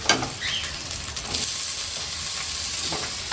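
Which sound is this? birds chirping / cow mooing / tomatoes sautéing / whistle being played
tomatoes sautéing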